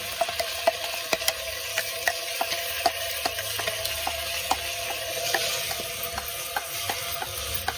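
A ground tomato and coconut paste sizzles in a pan for village-style crab curry, a steady frying hiss broken by rhythmic scraping clicks of a stirring spoon.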